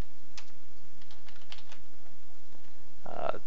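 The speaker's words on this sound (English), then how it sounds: "go ahead and type in your host name" Keys on a computer keyboard clatter in a short burst of a handful of quick, light taps while a host name is entered into an FTP client, ending in a brief louder click-like sound.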